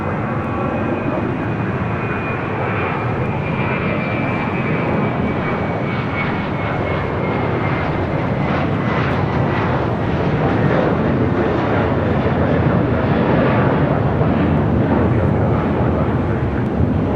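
A fixed-wing airliner takes off from runway 6 right at LAX at night, its engines giving a loud, steady, broadband roar with a faint whine that holds for the whole stretch, with no voices.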